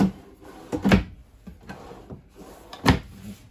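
Drawers opening and closing in the kitchen of a 2022 Avenger 27RKS travel trailer: several sharp close-range slides and thumps at an uneven pace, with quiet pauses between them.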